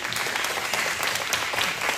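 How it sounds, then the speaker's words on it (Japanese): A group gives steady applause at a birthday celebration, a continuous crackle of many hands clapping at moderate loudness throughout, with no clear talking over it. "みんな拍手拍手。"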